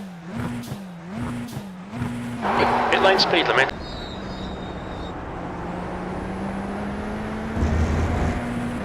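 Radical SR10 race car in the iRacing sim at Road America, engine droning and wavering in pitch, with a burst of turbo whoosh and whistle, then a steady idle hum, under a talking voice.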